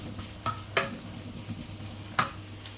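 Chopped onion and tomato sizzle in a hot pan under a steady low frying hiss, with a few sharp scraping strokes of a spoon stirring close by.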